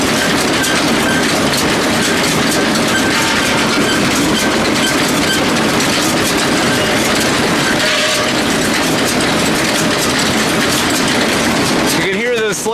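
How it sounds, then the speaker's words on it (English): Round baler sledge rollers running as the machine turns over, producing a loud, dense and steady mechanical rattle and rumble with rapid rhythmic clatter throughout. "You can hear the sledge rollers making some noise in there."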